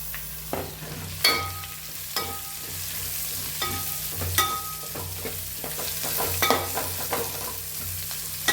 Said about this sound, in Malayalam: നമുക്ക് ഇതിലേക്ക് കട്ട് ചെയ്ത് വെച്ച് സവാള കൊടുക്കാം